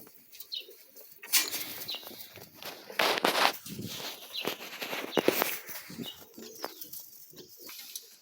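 Pigeons flap their wings in repeated loud bursts close by, mixed with shuffling steps and soft cooing, no talking.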